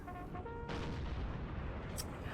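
Artillery fire in the Napoleonic Total War 3 battle game, a dense rumbling barrage of cannon booms that stays steady throughout, with a brief sharper crack near the end.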